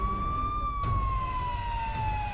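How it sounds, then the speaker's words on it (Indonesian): An ambulance siren wails steadily with a slowly gliding pitch, loud and continuous, with low traffic rumble beneath. "suara ambulan aja dicari"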